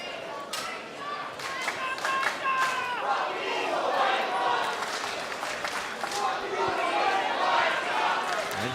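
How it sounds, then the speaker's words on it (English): A bloodthirsty wrestling crowd at the Melbourne City Wrestling Pavilion during MCW Ballroom Brawl gives steady, loud vocal feedback, chanting and cheering in a dense wash of voices with scattered claps throughout. "the MCW faithful just giving some crowd feedback"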